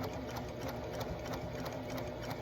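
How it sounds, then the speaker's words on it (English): Close, steady whirring and fast rhythmic needle clatter from a sewing machine stitching a straight seam, running continuously and alone at moderate volume. "you are just going to sew straight down"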